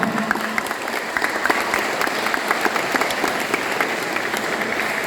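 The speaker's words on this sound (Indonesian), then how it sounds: "Tepuk tangan dulu untuk semua." Steady applause from a crowd honoring young chess players from elementary, middle and high schools at a city chess tournament, dense clapping holding evenly throughout at moderate distance.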